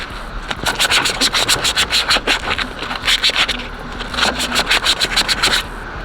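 Sandpaper rubbed by hand across a Dodge Charger KBD SRT front bumper, rapid back-and-forth scratching strokes in quick bursts with brief pauses, close and fairly loud.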